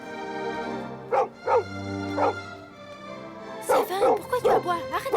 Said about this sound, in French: Sévin, pourquoi tu aboies? Arrête d'aboyer.